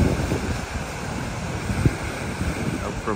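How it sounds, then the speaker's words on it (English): Steady wind rushes and buffets against the microphone outdoors on a morning walk in Los Barriles, Baja, Mexico, a continuous low roar with occasional gusty thumps. "windy, windy."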